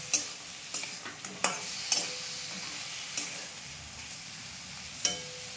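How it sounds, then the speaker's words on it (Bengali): Hilsa fish heads and pieces sauté in oil in a pan, with a constant low sizzle punctuated by several sharp clacks and scrapes of a spatula against the metal, close by and without speech. "ইলিশ মাছটাকে দিয়ে কিছুক্ষণ কষাতে হবে।"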